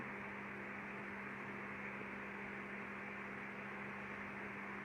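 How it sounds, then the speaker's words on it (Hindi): An electric ceiling fan runs steadily indoors as a continuous broadband whoosh with a low constant hum, fairly quiet and unbroken, with no talk over it. "अगर मेरे पंखे की आवाज़ ज़्यादा आ रही हो तो इसको मैं कम करवा दूं।"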